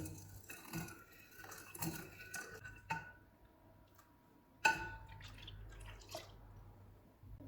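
Sugar and rose syrup being stirred together for tukh malanga sharbat, heard as quiet spoon clinks and taps against a glass or bowl with soft liquid swishes, several sharper knocks and faint gaps between them.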